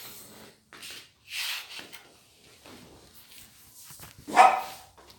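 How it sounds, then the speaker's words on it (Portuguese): A dog shut inside a room gives a few scattered barks and scuffling sounds, with one loud, sharp bark near the end, all close by and without talk. "Meu cachorro ficou preso no quarto."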